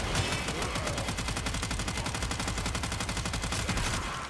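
Tenora weapon in the Warframe video game firing a long, unbroken stream of rapid, evenly spaced shots, loud and close, holding a steady machine-gun rhythm for several seconds before trailing off.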